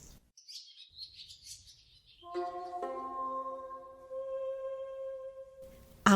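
A swallow twitters in quick high chirps, then a sustained tonal warble holds steady and fairly close, with no voices present.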